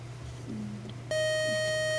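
A quiz-show buzzer sounds loud and steady, a sustained electronic tone cutting in partway through a match and holding to the end, over a low room hum.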